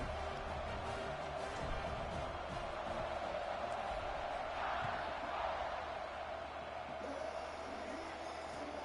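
Broad, continuous roar of a large stadium crowd cheering in an American football video game, distant and steady with slight swells, no voices standing out.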